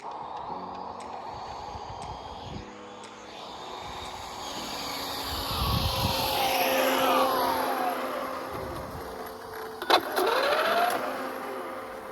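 An Arrma Limitless RC car with a Castle 1721 motor makes a speed run. A high electric whine rises and falls in pitch as it passes, sounding fairly distant, with a brief sharp spike near the end.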